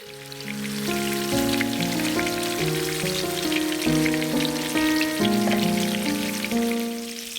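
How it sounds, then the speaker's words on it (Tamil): Mackerel crackles and sizzles steadily in hot oil, a dense hiss running the whole time beneath background music. "நம்ம இப்போ இந்த மீனை பொரிக்க போகிறோம்"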